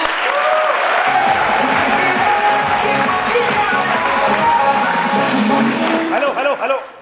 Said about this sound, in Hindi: साहब के लिए एक जोरदार ताली बजा जाइए